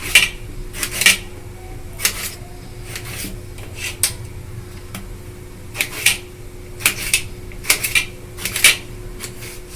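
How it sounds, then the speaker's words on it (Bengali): A knife cuts tomatoes on a board, giving sharp irregular knocks and taps in small clusters, close and fairly loud against a quiet kitchen background. "এইভাবে আমি সবকটা টমেটোকে কেটে নেব"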